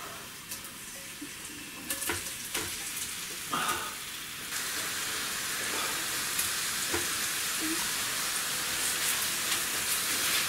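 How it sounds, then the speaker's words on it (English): Onion paste sizzles steadily in a pan for an aubergine and potato dish, a continuous frying hiss with a few stirring clicks and scrapes near the start, building slightly louder as it goes. "so I'm going to put the onion paste in there"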